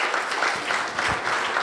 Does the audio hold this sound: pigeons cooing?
no